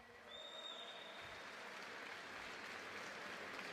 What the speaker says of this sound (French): Monsieur Yohan Kongolo, s'il vous plaît, on l'applaudit bien fort